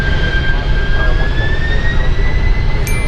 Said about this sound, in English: Engines to full power.